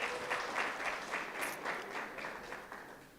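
Steady applause from an audience at a university campus inauguration ceremony, a dense patter of many hands clapping throughout, fairly distant and even.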